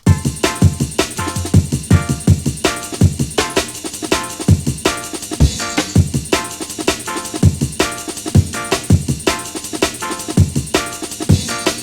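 Dense jungle groove in Ableton Live: rapid breakbeat drums with punchy kicks and crisp snares over looping chords, with a little ding note returning at the start of each section, loud and steady without voices.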